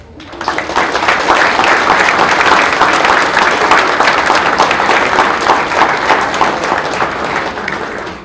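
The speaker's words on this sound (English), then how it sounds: "give my beautiful wife, Brittany, a round of applause" Sustained applause from a conference audience, a dense, steady wash of clapping that rises quickly and holds loud and even for several seconds before easing off slightly at the end.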